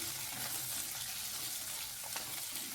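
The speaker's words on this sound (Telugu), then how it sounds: "ఇప్పుడు వీటిని కూడా మనం గోల్డెన్ బ్రౌన్ కలర్ వచ్చే వరకు ఫ్రై చేసుకోవాలి" Chillies frying in a pan for a peanut and sesame chutney, giving a steady, close sizzle with light stirring scrapes throughout.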